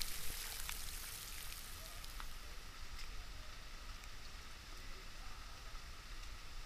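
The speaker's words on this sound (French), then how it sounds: "Il pleut toujours." Steady rain falls continuously at Arenal in Costa Rica, a soft broadband hiss with scattered drops, fairly constant in level with no voices.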